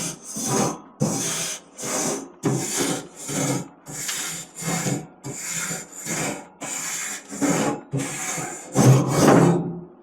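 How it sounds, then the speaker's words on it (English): A stiff grill brush scrapes back and forth across sprayed grill grates, stripping mold and mildew buildup in about a dozen loud, rhythmic rasping strokes with brief pauses between them. "I'm going to go ahead and take my brush and run it across here."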